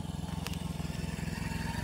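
A motorcycle engine on a road gives a steady, close, throbbing drone that holds throughout the short stretch, with no talking over it.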